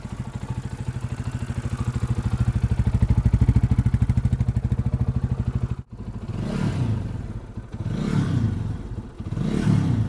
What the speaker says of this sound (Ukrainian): Звучить він, до речі, як КПТшка, щось дуже схоже, але більш такий басистіший вихлоп